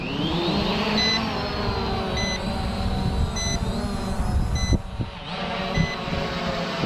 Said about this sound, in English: I do not know why this freaking thing's beeping at me.